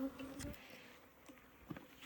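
Bees buzz faintly around a beehive in southern Arizona, with robber bees about; a soft continuous hum carries a few brief, louder buzzes of single insects passing near, and no one speaks.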